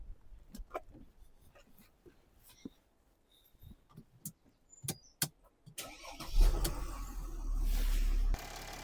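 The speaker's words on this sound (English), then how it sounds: "Right, okay, I'm going to start the car." A Mercedes GLE diesel with a suspected blocked DPF cranks and fires after a stretch of quiet clicks and handling noises, then settles into a steady, fairly loud idle rumble.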